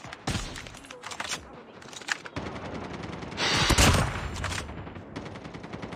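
AK rifle fire in Call of Duty Mobile multiplayer: rapid automatic bursts crack in quick succession, with a heavier, louder flurry near the middle, sharp and close with brief gaps between strings of shots.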